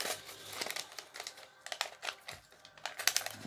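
A Lego paper bag crinkles and crumples in steady handling bursts, close and fairly loud, with no talking.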